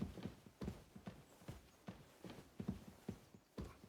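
Horse hooves clip-clop in a steady walking rhythm in the medieval role-playing game Kingdom Come: Deliverance 2, each hoofbeat crisp and fairly close, continuing evenly with no talk over them.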